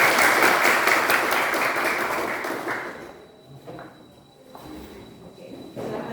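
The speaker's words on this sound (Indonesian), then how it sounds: "Baik, tepuk tangan." Audience applause from students in a classroom, loud and dense for about three seconds, then fading out into quieter room sounds with a few scattered claps.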